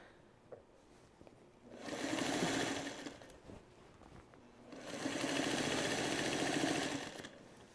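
Sewing machine binding the edge of a Trellis Garden quilt, two sustained bursts of moderate stitching separated by a quiet pause with faint handling noise.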